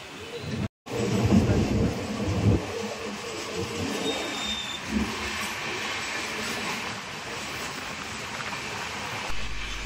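The Kondaveedu Express pulls out of Machilipatnam with a continuous rumble and clatter heard from on board, steady over several seconds and broken by one brief dropout near the start.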